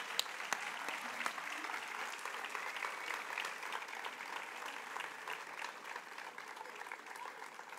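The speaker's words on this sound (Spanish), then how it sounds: "un aplaudiment també per Clàudia" Audience applause at the closing of a solemn proclamation ceremony for the queen and her court of honour in Peñíscola, a steady dense clapping crowd that carries evenly from start to finish at moderate distance.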